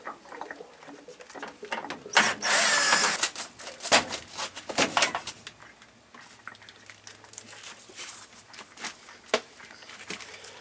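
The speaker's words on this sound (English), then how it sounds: "I've got to take off some screws" Screws being taken out of the flue cover on a hot water heater, heard as close, irregular clicks, taps and scraping handling noises, with one louder rattling burst early on.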